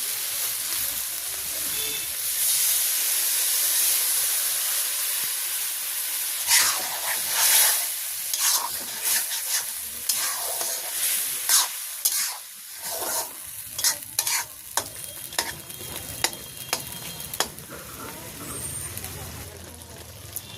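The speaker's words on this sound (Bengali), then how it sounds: "তো এখন আমি চালের গুঁড়োটা যে গোলাই নিছি, এটা এখন দিয়ে দেবো।" Rice flour paste poured over a fish head frying in oil in a village kitchen, for a beetroot and kohlrabi ghonto: a steady hiss becomes busier sizzling, with stirring scrapes and clinks throughout.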